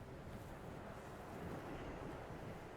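Wind in the video game Dear Esther on a remote island, a faint low continuous rumbling gust with a surf-like wash and no talking.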